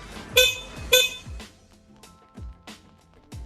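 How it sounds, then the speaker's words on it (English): A loud electronic horn on a Mukuta 10 Plus electric scooter sounds in two sharp, close beeps, followed by a string of dull knocks and thumps from handling the scooter. "the electronic horn, which is extremely loud"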